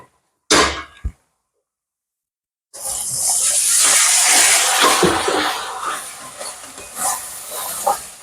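Hot masala for a chicken curry erupts into a loud, sustained hiss and sizzle as a little water goes into the pan, following a short burst of earlier frying and a silent pause.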